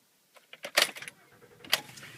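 Keys jangle and clatter in a 2012 Honda Pilot as the car is shut off, a few quick metallic bursts close by with a sharp rattle near the end, no talking.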